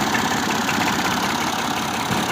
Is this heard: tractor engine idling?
yes